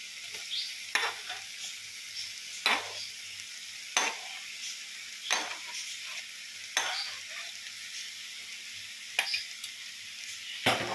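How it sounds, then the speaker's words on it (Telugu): Soya chunks (meal maker) are stirred into a sizzling curry in a pan, a spoon scraping in repeated strokes about every second or two over a steady frying hiss. "మీల్ మేకర్ తీసి వేసేసి ఒకసారి బాగా కలిపేద్దాం"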